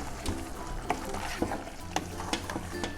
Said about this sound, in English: So once I add it, I keep stirring it